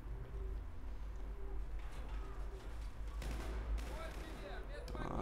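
Gunfire in the PC game Battlefield 4 rattles in dense bursts and scattered shots at moderate distance under a steady low game rumble, with someone talking over it.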